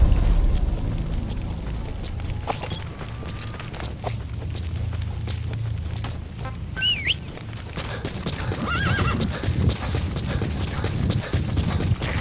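A horse neighs twice over steady hoofbeats and a low rumbling game soundscape, with scattered clicks throughout.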